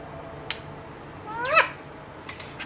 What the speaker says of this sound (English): kitty, come say hi. Meow.